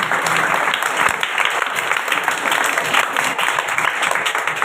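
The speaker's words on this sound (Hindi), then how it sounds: "जोरदार तालियां बजाएं।" A congregation at a prayer meeting in Okara claps loudly and continuously, a dense, full sound of many hands with faint voices underneath.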